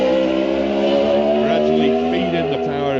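Dave Johnson's Norton superbike races past at the Isle of Man TT, its engine note loud and sustained with rising and falling pitch as it accelerates, while a commentator talks continuously over it.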